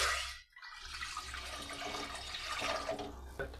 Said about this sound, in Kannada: ಹಾಗಾಗಿ ಈ ಕುಕ್ಕರಿಗೆ ಇಷ್ಟು ನೀರು ಹಾಕ್ಕೊಳ್ತಾ ಇದ್ದೀನಿ